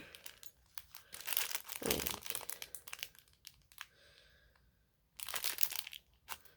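A paper envelope from a Chinese exorcism kit is handled and opened, with close, quiet crinkling and rustling in bursts separated by brief pauses.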